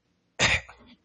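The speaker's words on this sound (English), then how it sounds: "which is the cough" A single human cough, one sharp burst of breath released from the throat that tails off quickly, close and alone against silence.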